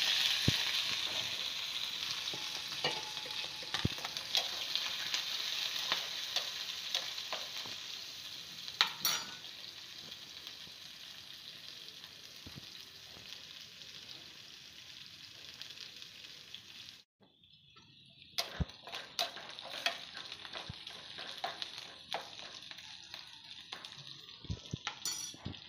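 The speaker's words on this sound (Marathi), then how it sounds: "त्यात मी आता हे कांदा, मिरची आणि कढीपत्ता टाकते।" Onion, green chili and curry leaves frying in a hot spiced tempering for a dal tadka, giving a steady loud sizzle with scattered utensil clicks; the hiss drops off sharply near the end, then resumes more quietly with a few light knocks.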